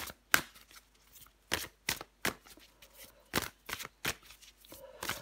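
Tarot cards are shuffled and drawn by hand, with about a dozen crisp, close riffles and flicks in an irregular rhythm across a quiet background and no talk.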